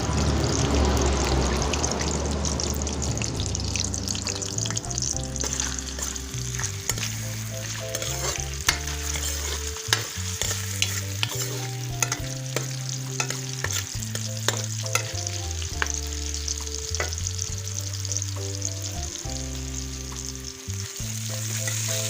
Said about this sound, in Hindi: ऑयल हमारा गरम हो गया। अब इसमें शामिल कर दूँ प्याज